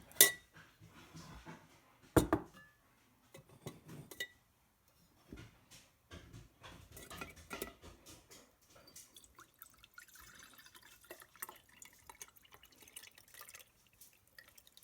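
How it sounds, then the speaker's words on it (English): Spruce mint lemonade syrup is double strained through a tea strainer, giving soft, irregular drips and trickles of liquid with a few small clinks of utensils, fairly quiet and close, with no talking. "I'm going to double strain this through my tea strainer here"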